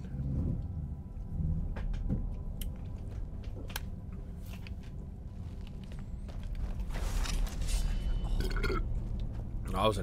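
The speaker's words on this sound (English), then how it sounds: "That was a nasty ass burp." A person lets out a drawn-out burp late in the stretch, over steady background noise and clicks from a Skyrim game session.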